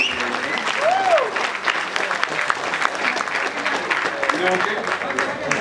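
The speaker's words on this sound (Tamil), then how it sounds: "எல்லாரும் ஒரு நல்ல கைத்தட்டல் கொடுத்து" Audience clapping at a Tamil film event stage, a thick continuous wash of applause with voices and a brief sung or called-out tone rising over it near the start.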